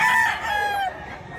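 A single rooster crows loud and close in one drawn-out call at a busy poultry market in Mantalungon, Cebu, the cry tapering off quickly.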